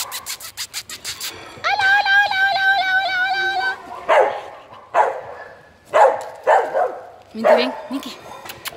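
A dog barks in a run of sharp, close barks in the second half, after an earlier stretch of people talking and calling out in a home setting.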